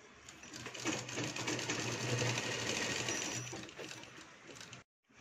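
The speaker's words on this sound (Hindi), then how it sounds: "इसी तरह से हमें सिलाई लगा देनी है।" Sewing machine stitching a lehenga, running in one steady, close, continuous whir for about five seconds before it stops abruptly.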